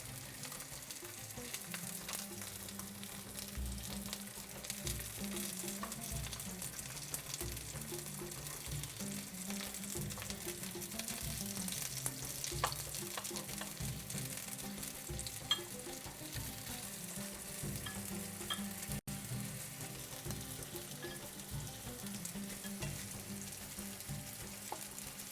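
Iraqi basterma sausage frying in a pan after being flipped, a steady, moderately quiet sizzle with fine crackles and spits that runs on without a break.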